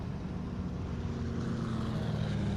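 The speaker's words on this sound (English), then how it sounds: "these planes are so annoying" Propeller airplane engine in the video game Hell Let Loose, a steady loud droning hum with a low rumbling pulse holding for the whole stretch, no talking.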